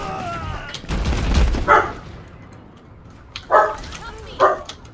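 Dog barks sound from an Overwatch match, three or four sharp yaps spaced a second or two apart over a steady game-audio bed with some talk.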